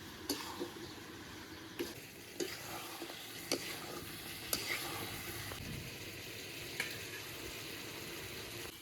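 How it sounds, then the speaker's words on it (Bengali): Spiced chicken fries in a pan with a faint steady sizzle while a spoon stirs it, scraping and tapping the pan every second or so, quiet and with no voices. "এবার সব কিছু খুব ভালো করে এবার মাংসটা কষাবো"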